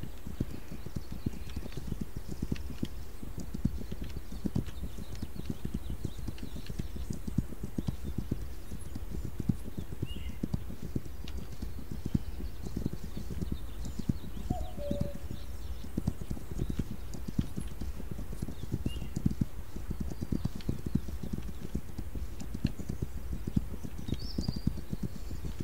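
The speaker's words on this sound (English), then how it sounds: "Let me hop on my horse and get on." Horse hooves gallop in the video game This Land Is My Land, a fast, steady clip-clop rhythm continuing throughout at moderate level, with faint birdlike chirps scattered in the background.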